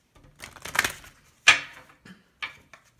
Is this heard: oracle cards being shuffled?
yes